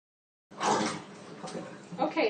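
Tap water runs over bell peppers being rinsed after their insides are removed, a steady splashing hiss that starts abruptly and shifts as the peppers are turned under the stream, fairly close and moderately loud.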